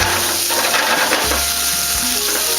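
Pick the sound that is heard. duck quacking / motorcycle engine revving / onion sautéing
onion sautéing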